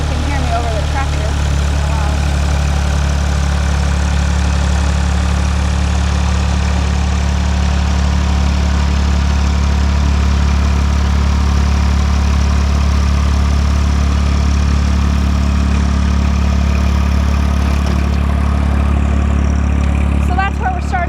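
A tractor engine drones steadily and loudly at close range while breaking up ground for chicken breeder pens, a constant low rumble throughout with a person talking over it.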